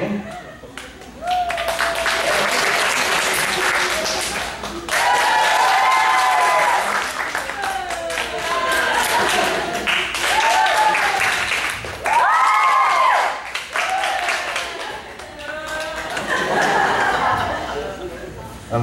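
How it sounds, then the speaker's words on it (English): A high-school post-prom hypnosis show audience claps and cheers as a vote to keep a contestant, loud bursts of crowd applause rising and falling in waves, with whoops and laughter mixed through. "By round of applause, are we keeping?"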